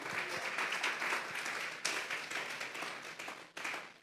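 A church congregation applauds during a Sunday afternoon service, a dense, steady wash of many hands clapping for about four seconds, with a brief dip partway through before the clapping swells again, no voices over it.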